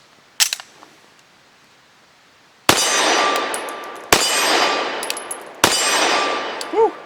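Three loud, sharp gunshots of high-velocity 65-grain lead-free rounds a second or so apart, each followed by a ringing metallic clang from a steel target, after a faint click early on.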